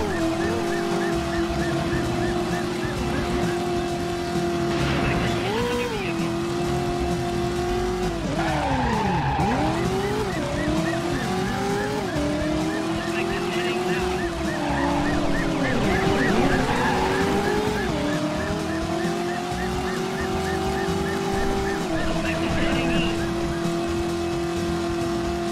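Cars in the PS1 game Driver roar along steadily, engine pitch rising and dipping with gear changes, broken by sweeping tire squeals and skids as vehicles corner through an intersection; a loud, constant mix with no pause.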